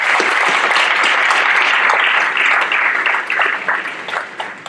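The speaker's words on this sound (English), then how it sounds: "let's give them one more round of applause" Audience applause at a white coat ceremony for a medical class in Florida, loud dense clapping that holds steady then thins and tapers toward the end.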